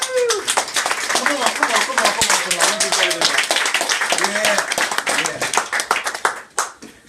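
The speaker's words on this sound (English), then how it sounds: "Give yourself a round of applause." Hands clap in a lively burst of applause at a New Year's Day celebration, crisp individual claps close by, with voices calling and cheering over them before the clapping thins out near the end.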